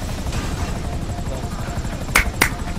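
A helicopter in GTA V thumps steadily with a loud, continuous rotor drone while landing during a heist setup, with a couple of sharp knocks near the end and voices faintly mixed in.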